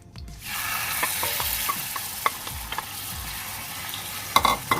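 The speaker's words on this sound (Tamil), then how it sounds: "கீ சூடானோன்னே நம்ம மேரினேட் பண்ணி வச்சிருக்கோம் இல்லையா இந்த ப்ரான், இதை ஆட் பண்ணிக்கலாம்." Marinated prawns frying in hot ghee: loud sizzling and crackling, with occasional scraping and clinks from stirring.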